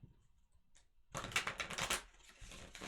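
Quiet near-silence breaks into a rapid, papery riffle of tarot cards being shuffled, close and crisp, continuing in bursts.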